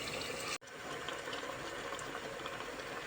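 Frozen broad beans tip into a pan of fried tomato paste, setting off a steady close hiss and sizzle that keeps going after one brief drop near the start.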